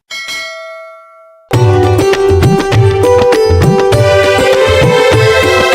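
A single bright bell ding rings out and fades, then loud music with rhythmic chiming tones cuts in and continues steadily.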